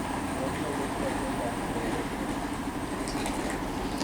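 Class 220 diesel train at Bristol Parkway station on the Great Western Main Line, a steady broadband rumble of the unit passing through, with faint high squeals near the end.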